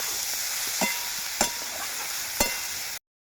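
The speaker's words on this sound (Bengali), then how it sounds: "লবণ দিয়ে দিচ্ছি বন্ধুরা। পরিমাণ মতো লবণ দিলাম, আর এর সাথে হলুদ গুঁড়ো দিয়ে দিলাম। দিয়ে একটু নাড়াঘাটা করে দিলাম।" Mashed potato mixture for aloo chokha fries as salt and turmeric are stirred in: a steady sizzle with three clear knocks of a spoon against the pan, then sudden silence.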